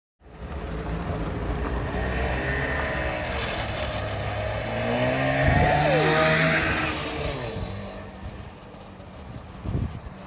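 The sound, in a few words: museum car with lawnmower engine being driven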